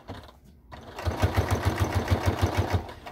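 Sewing machine stitching through a cork billfold wallet, backstitching: after a brief pause it starts up with a close, rapid, regular run of mechanical stitch thumps lasting a couple of seconds, with no talk.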